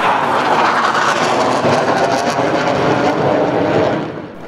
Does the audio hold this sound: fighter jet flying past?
yes